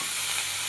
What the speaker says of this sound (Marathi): तर आता आपण हे भाजून घेऊया.